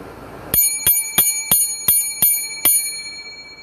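A metal hotel desk bell is struck seven times in a quick, slightly uneven series, each bright ding ringing clearly with a lingering tone, close up and without speech.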